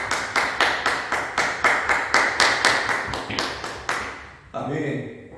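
Church congregation clapping in rhythm together during Sunday worship, steady loud beats of many hands that stop abruptly, followed by a brief voice.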